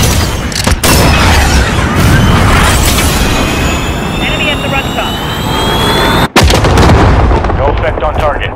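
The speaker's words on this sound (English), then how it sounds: "cruise missile away" A cruise missile strike in Call of Duty Modern Warfare multiplayer, a loud roaring jet-like rush with heavy booming blasts and a sharp cut near the end, with radio-style voices over it.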